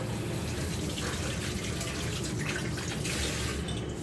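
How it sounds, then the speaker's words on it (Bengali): Oily hands being washed under a running kitchen tap, a steady close rush of water splashing into a sink without pause, with no talking. "তেল হাতটা আগে ধুয়ে নিচ্ছি আমি।"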